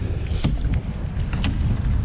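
Strong wind buffets a fishing boat on open water in late fall off Montauk, a steady rushing roar with gusty microphone rumble and water noise, no talking.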